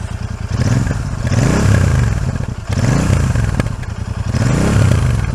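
A Royal Enfield Super Meteor 650 motorcycle engine revs in repeated surges, its deep exhaust growl rising and falling close by, with no voices.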